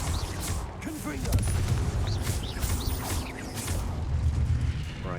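Confringo spell blasts crack and boom in Hogwarts Legacy, a quick run of sharp bursts and whooshes in the middle of a fight, with a voice calling out over the clatter.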